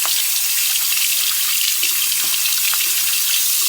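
Water gushing loudly and steadily from a bathroom tap into a sink as something is rinsed, a close, continuous hiss and splash with faint clinks beneath.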